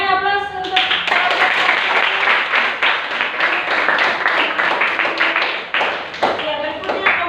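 Audience applause after a school group presentation in a classroom: dense, sustained clapping from many hands lasting several seconds, with a voice speaking briefly at the start and end.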